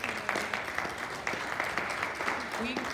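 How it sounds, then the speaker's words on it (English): Applause at a community council meeting for the police chief and deputies: a moderate spread of clapping runs steadily throughout, with voices talking over it. "Round of applause to Chief Red, the deputies."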